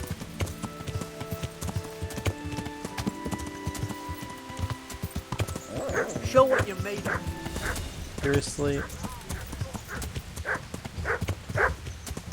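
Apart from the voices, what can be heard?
horse hooves clip-clopping while riding, from video game Kingdom Come: Deliverance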